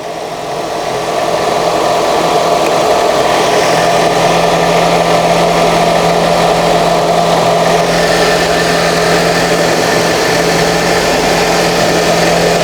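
A car engine runs steadily at idle during an alternator voltage test, a constant, close, loud hum with a low droning tone and no speech throughout.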